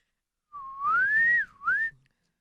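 A single wavering whistle rises and falls in pitch, breaking briefly before a short second note, breathy and close.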